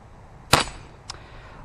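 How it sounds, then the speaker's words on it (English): A Crosman .177 American Classic pellet pistol fires a single sharp crack at an outdoor target, followed about half a second later by a faint short click or distant impact, with no talking. "I'll shoot at one of the big white ones."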